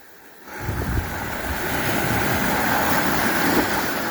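Sea waves wash onto a sheltered South Wales shore on an ebbing autumn tide, swelling in after a brief quiet moment, with a strong westerly gale roaring and buffeting the microphone.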